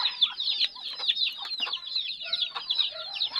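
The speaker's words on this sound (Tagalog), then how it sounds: "Oh, bagong pisa na ang bibi ko. Oh, mga bibi." Newly hatched ducklings giving a dense run of high, rapid peeping chirps, close and lively, with overlapping calls and no voices.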